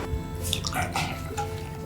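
Herbal tea made with star anise, cinnamon and long pepper is strained, producing soft liquid pouring and dripping sounds, close and fairly loud, mixed with low splashes.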